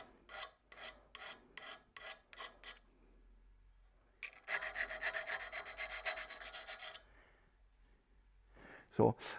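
A fine burr is honed off a freshly sharpened cutting edge of a boring tool, heard as a soft rhythmic rasping, first in short separate strokes, then in a longer continuous scrape; someone speaks quietly around it.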